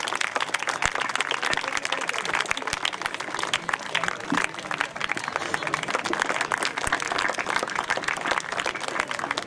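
Children at a school youth gram sabha clap and applaud continuously, a dense, even patter of many hands filling the room, with some voices mixed in beneath.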